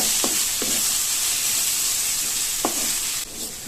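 Masala being stirred into ponnanganni spinach greens for keerai poriyal in a pan: a steady close sizzle runs throughout, broken by several soft scraping strokes of the spoon.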